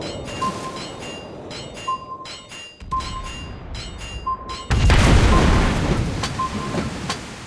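Ship in World of Warships Blitz taking explosive hits, a Tier 6 Soviet cruiser Molotov: dull booming thuds and a heavy blast burst over continuous rumbling game ambience, with repeated short electronic alert beeps.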